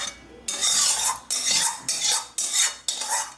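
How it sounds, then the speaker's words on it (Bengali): Potato curry (aloo dum, made with new winter potatoes) scraped into a serving bowl, heard as a run of loud rhythmic metal scrapes and clanks from a spoon against the pot, about five strokes close up with no talking. "আলুর দমটা আমি একটা পাত্রে ঢেলে নিচ্ছি"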